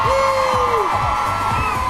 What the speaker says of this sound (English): A big cheer, please, for the team from Smart.